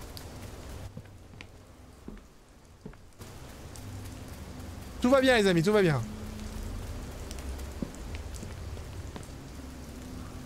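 Steady rain pattering throughout a survival video game scene, soft and constant under someone speaking French, with a brief louder tonal sound in the middle.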